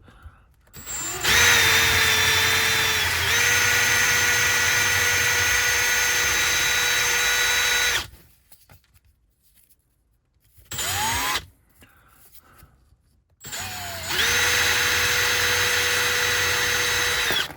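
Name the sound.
power tool cleaning a model locomotive wheel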